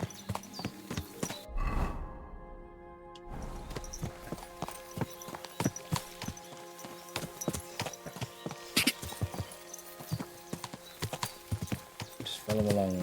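Horse hooves clip-clopping steadily along a trail in a game, crisp regular hoofbeats up close with a brief quiet gap, while someone talks intermittently.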